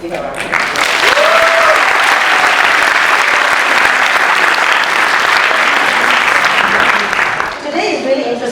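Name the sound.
applause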